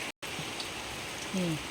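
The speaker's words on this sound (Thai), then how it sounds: "ฝนมันตกแล้ว" Steady rain falls outdoors over a garden of colourful caladium plants with grass growing between them, a soft even hiss throughout, broken by a brief dropout near the start and a short low hum toward the end.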